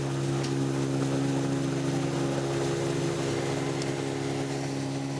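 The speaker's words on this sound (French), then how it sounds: "Une épreuve pour les 40 chevaux du moteur, toujours à fond." A 40 hp outboard motor pushes an old, heavily loaded 12-metre wooden pirogue at full throttle, giving a steady, loud, unbroken engine drone with strong low hum for the whole stretch.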